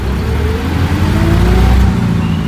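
Steady traffic on a busy city street in Iloilo, with car engines humming and revving together in a continuous wash of nearby vehicle noise, no voices.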